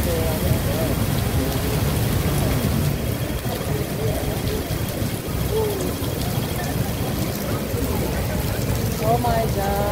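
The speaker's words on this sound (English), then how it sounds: "Heavy rain here in Hong Kong everyone." Heavy rain pours onto a street in Causeway Bay, Hong Kong, a dense continuous hiss and patter with passing traffic rumbling underneath and voices talking over it.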